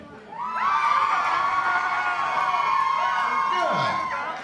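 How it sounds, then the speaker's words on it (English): Girls in a concert crowd at a ska show screaming together, a loud sustained high-pitched chorus of shrieks that swells in and holds for several seconds before tapering off. "Can I want to hear the girls scream?"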